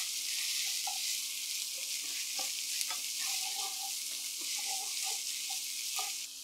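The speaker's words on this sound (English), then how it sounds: "give that a nice stir" Ground meat frying in its own juices in a pan, with a dense, continuous sizzle and intermittent scrapes and clicks of a spoon stirring, close and even throughout.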